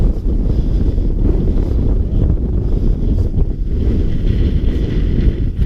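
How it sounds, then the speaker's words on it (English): Blustery wind buffets the microphone on a winter fell summit in the northern fells, a loud, continuous low roar that gusts and swirls without a break, with no voices heard. "the wind seems to be swirling around in all directions"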